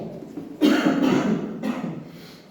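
Two muffled coughs from one person, the first longer and stronger, the second shorter, against a quiet room.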